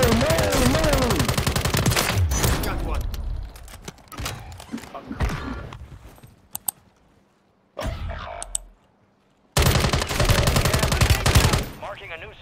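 Rapid automatic gunfire in the Warzone battle royale game, loud bursts of shots with brief gaps and thuds, mixed with in-game sounds while players talk over it.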